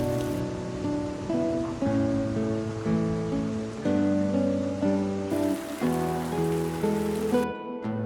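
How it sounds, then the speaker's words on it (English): Rain falling steadily around a riverside cottage near Pune, a constant even hiss filling the whole stretch with no talk, alongside sustained tonal layers. "The rain started again, and somehow it made everything feel complete."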